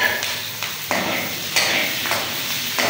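Garlic, green chilies and ginger frying in a pan for a desi lemon chutney with honey, a steady bright sizzle with repeated stirring scrapes, close and alone.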